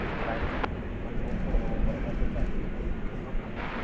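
An American Airlines jet departing DFW bound for Boise, Idaho produces a continuous low rumbling roar of moderate loudness that swells slightly in the middle and holds steady.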